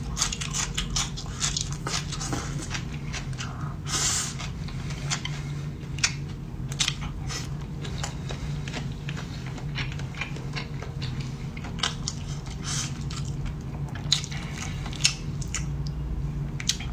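Quiet close-up chewing and crunching while eating a cold dressed preserved egg dish, with soft irregular bites and small clicks throughout and no talking.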